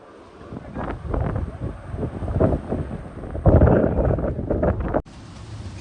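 Strong wind gusting over a mountain summit near a temple, roaring and buffeting the microphone in loud, uneven surges that build, then drop away abruptly near the end.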